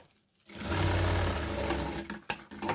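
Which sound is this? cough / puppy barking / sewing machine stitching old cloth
sewing machine stitching old cloth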